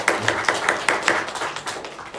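A church congregation claps during a Sunday worship service to send off a departing member, a quick run of sharp, fairly even claps that fades out after a couple of seconds.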